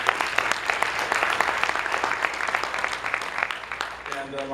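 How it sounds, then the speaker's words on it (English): Audience applause at an evening talk on 400 years of African American history at New Beech Grove, a dense steady patter of many hands filling the room, with a voice briefly audible near the end. "so give him a round of applause."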